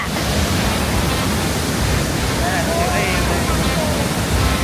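Thai waterfall rushing with a steady, dense roar of falling water heard close, constant and loud throughout with no breaks.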